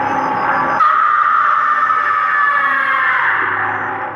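A car's engine starts abruptly in a haunted-house horror scene, a loud sustained roar kicking in after a moment of quiet, with a whining tone that slowly slides downward.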